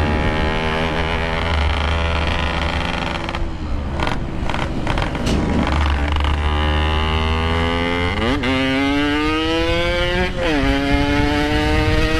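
A Honda Supra X motorcycle engine roars up close, revving and shifting gears repeatedly as it accelerates, loud and continuous throughout.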